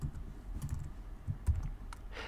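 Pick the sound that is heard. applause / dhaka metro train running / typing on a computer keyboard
typing on a computer keyboard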